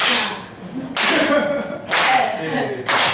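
A church congregation claps together along to a song in 4/4 time: three or four loud, sharp, unison claps about a second apart, with singing or a melody sounding faintly underneath.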